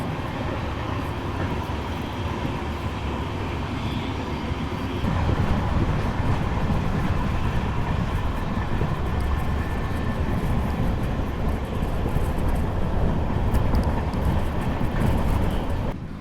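A train runs through desert near sand dunes on the route to Jaisalmer, with a continuous rumbling clatter of wheels on rails and carriage noise that grows slightly louder midway and holds steady.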